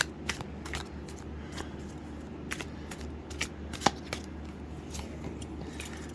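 Tarot cards shuffled and drawn, heard as soft, close riffling and light snapping taps scattered over a steady low background hum.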